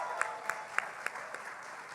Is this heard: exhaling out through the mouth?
no